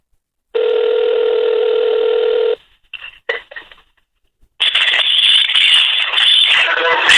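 A telephone call is placed: a steady two-second tone sounds, then a few clicks and short bursts follow a pause before a line connects with a voice and background noise.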